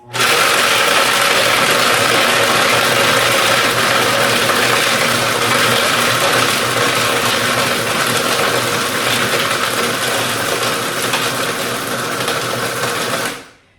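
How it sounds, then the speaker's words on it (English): A Vitamix blender running at full speed while crushing ice, giving a loud, steady mechanical whir with gritty rattling that holds for about thirteen seconds before cutting off abruptly. "Here comes Vitamix. I'm going to put it on the full speed blender setting."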